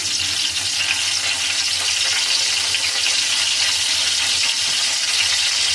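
Cinnamon, cardamom and cloves fry in hot oil for a mixed biryani, giving a loud, steady, close sizzle that holds without pause. No one talks over it.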